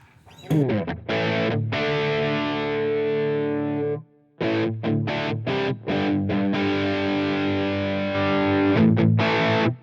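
An electric guitar runs through a Line 6 Helix modelling a Friedman BE100 amp with a dirty, dark-toned setting. It plays loud, thick distorted chords and sustained notes, with a short gap before a run of choppy, rhythmic strums.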